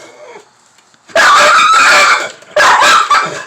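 A pit bull American Bully dog barks at a neighbor's dog, with two loud, close bursts of harsh, strained barking and yelping after a quieter start.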